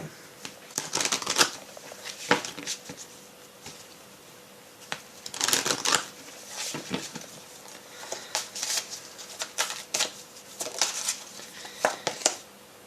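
Tarot cards are shuffled by hand in quick bursts of riffling and slapping, close and moderately loud, separated by short pauses with soft rustling.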